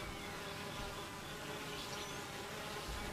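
Honey bees humming inside a hive on a hot summer day, fanning their wings: a dense, continuous, even buzz of many insects, faint and steady throughout, with no voices.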